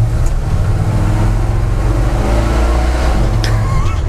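Lightly tuned V8 engine of a 1970 Chevrolet C10 pickup revving, a loud deep rumbling drone held steady and close, with brief clicks near the end.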